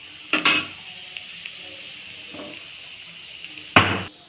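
A utensil scrapes and clinks against a pan while carrot fry with chili powder cooks, three sharp stirring strokes, near and fairly loud, spaced over a quiet background hiss.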